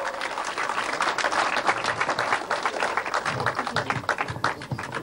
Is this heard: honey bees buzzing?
no